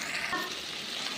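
Cauliflower, cabbage and carrot being stirred as they fry in a pan, giving a steady, close sizzling hiss that runs evenly throughout, with no one talking.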